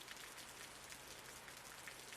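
Steady, soft rain patters indoors inside a lab in the survival game Osiris: New Dawn, an even hiss of falling drops with no breaks and no talk.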